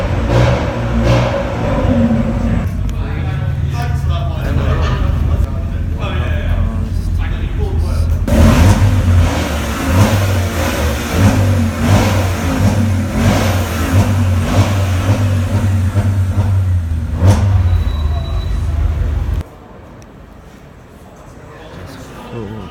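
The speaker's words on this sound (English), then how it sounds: "There seems to be a lot going on in here, including revving." Rally car engines revving at a street event in Bournemouth, a continuous loud mix of engine drone and throttle blips with crowd chatter and voices throughout, dropping abruptly to quieter background near the end.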